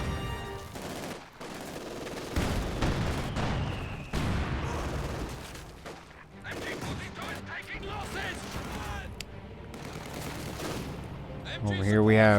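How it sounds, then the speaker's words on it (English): Battle sounds in Company of Heroes 2, with MG42 machine gun fire and a Soviet KV-8 tank, dense rattling bursts and heavy booms layered over each other, loud and continuous, while a voice talks over the fighting. "Over here we have an MG42 that is fighting to the end, and I think it will be the end of that MG42 since it is about to get hit by this KV-8."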